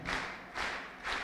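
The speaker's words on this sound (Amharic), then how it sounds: "አጨብጭቡለት ለወንድማችን ዳባ።" A church congregation claps for brother Daba, three broad swelling bursts of crowd applause in slow rhythm, loud and filling the room with no talk over it.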